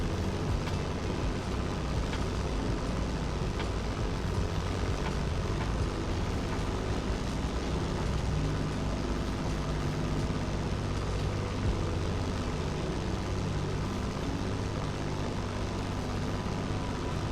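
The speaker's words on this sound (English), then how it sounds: "Let me check this Spitfire from the back." Propeller-engine drone from a Spitfire fighter plane in the racing game The Crew Motorfest, a steady loud rumble with a low throbbing hum that holds unbroken throughout with no voices.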